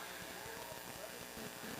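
Harness racing horses trot past at a county fair track, their hooves producing a steady, rapid clip-clop beat under a busy crowd and announcer-style background din.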